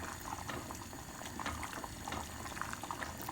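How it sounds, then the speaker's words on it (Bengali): Rice cooking in a pot at a rolling boil, with a continuous close bubbling and gurgling wash of water that stays fairly even throughout, no voices. "তা আমি এখন ভাতটা ভালো করে পাক করে নিচ্ছি। ভালো করে পাক আসছে"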